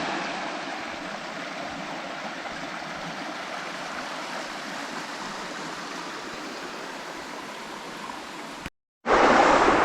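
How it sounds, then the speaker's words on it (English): River flowing steadily, a broad continuous rushing wash heard up close and fairly loud, briefly cutting out near the end before resuming. "Right, just got up a river now."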